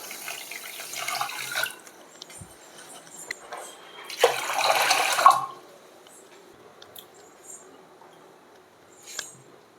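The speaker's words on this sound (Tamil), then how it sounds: "இந்த டம்ளாரில் ரெண்டு டம்ளார் தண்ணி ஆட் பண்ணிக்கலாம்" Water splashes and pours in two short bursts as two tumblers of water go into a pan for gulab jamun syrup, with clinks and scrapes of kitchenware and quiet gaps between.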